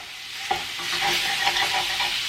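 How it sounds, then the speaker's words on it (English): One pound of sausage sizzles and browns in a frying pan, a steady close hiss broken by scraping stir strokes, with no voices. "Now I'm just going to brown up 1 pound of sausage."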